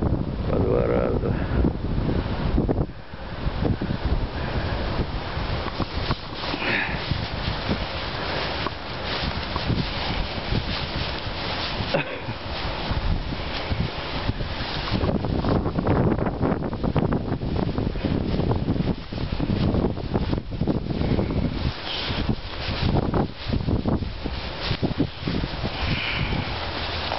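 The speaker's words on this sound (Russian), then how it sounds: "Но ветер." Strong wind blows steadily outdoors on a daily walk route, buffeting the microphone with loud continuous roaring gusts throughout.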